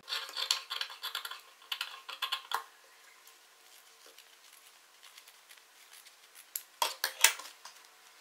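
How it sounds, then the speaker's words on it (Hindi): Scissors snip through kurti fabric along a neckline, cutting both inner and outer edges, in bursts of crisp close metallic clicks and rustles, then a quiet pause before another quick run of cuts. "अब हम इस नेक की यहाँ अंदर से और ये बाहर से दोनों तरफ से कटिंग कर लेंगे।"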